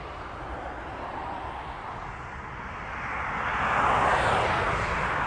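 A fixed-wing airplane takes off and retracts its landing gear, its engine a steady distant roar that swells louder toward the end, with no voices.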